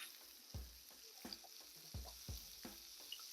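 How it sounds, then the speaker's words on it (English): Butter melting on a hot breakfast griddle gives a quiet, steady sizzle, broken by several soft low knocks and scrapes of a utensil against the flat top. "we're melting that butter"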